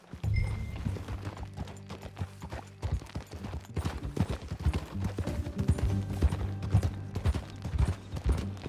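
Horse hooves clip-clop in a steady riding rhythm in Red Dead Redemption 2, continuous and fairly close, with light background game sound.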